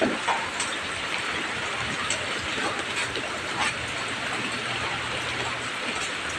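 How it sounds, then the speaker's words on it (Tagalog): Heavy rain pours steadily outside a house during the amihan monsoon season, a dense continuous hiss that stays even and loud for the whole stretch, with no voices over it. "napakalakas po ng ulan"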